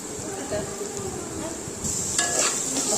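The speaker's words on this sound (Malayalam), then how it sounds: "എന്നിട്ട് ഉപ്പ് എല്ലായിടത്തും പിടിക്കാനായിട്ട് നന്നായിട്ട് ഇളക്കി കൊടുക്കുക." Sliced onions fry in a pan with salt as they are stirred, a steady soft sizzle running throughout and a few louder scraping clinks of the spoon against the pan near the end.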